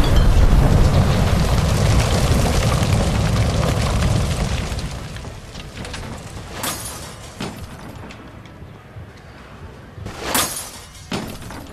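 In the video game L.A. Noire, a gas leak at an electroplating plant ignites after a gas light is shot, giving a loud rumbling blast that slowly fades, with later crashes, bursts and debris cracks, no voices.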